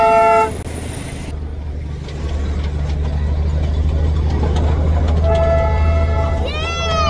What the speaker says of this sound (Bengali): এই যে আমাদের সেই স্বপ্নের টয় ট্রেন আসতেছে